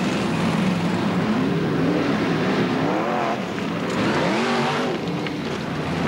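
BriSCA Formula 1 stock cars race at Boston in 1991, several engines roaring and revving together in a continuous loud drone as the cars chase one another around the track.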